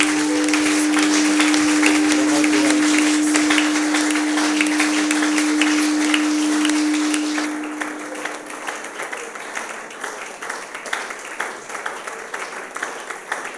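A church congregation applauds loudly and steadily for about seven seconds over a sustained organ-like tone, then the clapping thins out and fades to scattered claps.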